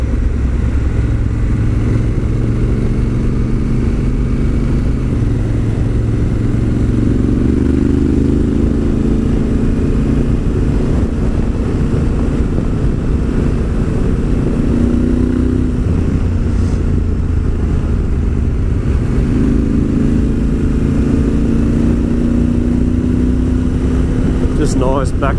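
A Honda Africa Twin motorcycle rides a back road, its engine droning loud and continuous with rising and falling revs as it shifts through gears, wind rumbling over it.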